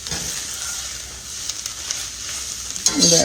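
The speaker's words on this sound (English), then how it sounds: "Our onions are sauteing real good." Onions sauteing in butter in a pan for a Southern onion pie, giving a steady close sizzle and hiss with light stirring scrapes near the end.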